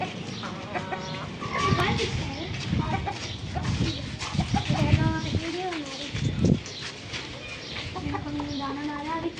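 Java roosters and chickens cluck and call close by as grain is scattered for them, the bird sounds mixing with a person talking over them.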